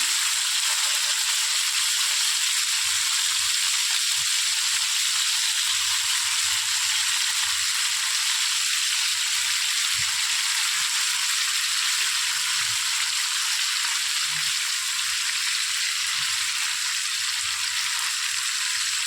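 Chicken pieces for Goan-style cafreal fry in hot oil, a dense, continuous close sizzle that holds steady and loud throughout with faint low bumps beneath and no talking.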